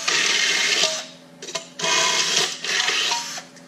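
A 7/16 reamer is driven by a power tool through bolt holes in a Grumman aircraft forward bulkhead, heard as three close, loud whirring bursts of cutting separated by short pauses.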